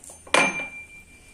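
A single sharp pound of black pepper and cumin in a small mortar, one bright clanking strike with a brief ringing tail, then quiet.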